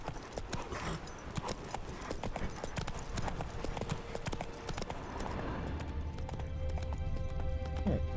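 Roach, Geralt's horse in The Witcher 3 Blood and Wine, trotting with steady clip-clopping hooves and a brief whinny, tack jangling faintly over a game ambience, no talking.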